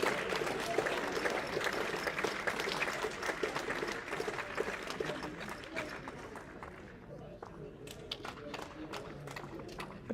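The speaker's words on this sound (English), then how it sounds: "Bit of a cheer from Brink too." A crowd at an indoor bowls championship mixed rinks final gives a short burst of cheering and applause, a dense clatter of claps that thins out toward the end, heard at moderate distance.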